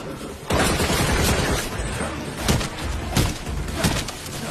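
Gunfire from the Resident Evil 4 Remake village fight, with sharp repeated shots and bursts over a dense, noisy backdrop, several louder reports standing out near the end.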